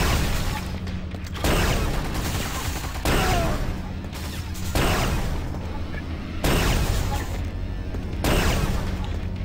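Turret gunfire in the Quake 2 Ground Zero video game comes in repeated loud bursts of dense, crashing shots, several of them in a row, with brief dips between the volleys.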